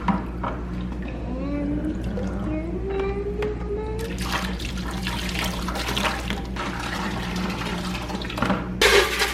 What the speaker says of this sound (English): So we're just rinsing the proxy off of the equipment and trying to keep it clean.